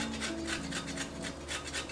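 Nutmeg grated on a microplane directly into eggs for eggnog, a soft rhythmic rasping of several quick strokes, faint and close, with no talk.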